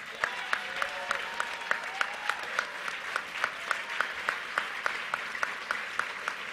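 Audience at a civil rights convention's Saturday action rally applauding in regular, rhythmic claps, moderately distant in a large hall, with faint voices and whistles mixed in.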